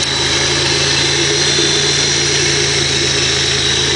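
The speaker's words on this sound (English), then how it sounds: "you heard the fans come on" A car engine idles steadily at close range, with a constant low rumble and a broad whirring hum as the cooling fans run continuously throughout, with no talking.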